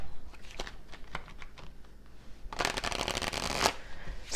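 A tarot deck is shuffled at close range: scattered single card flicks and taps at first, then a dense, continuous riffling burst that runs to the end, with no voices.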